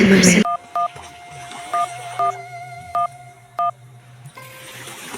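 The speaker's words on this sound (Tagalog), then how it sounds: "Tawagan ko si Emmanuel" A phone keypad beeps out a number, six short two-tone presses with uneven pauses, over a faint steady hum.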